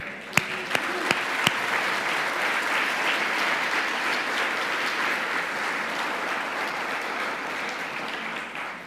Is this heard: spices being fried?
no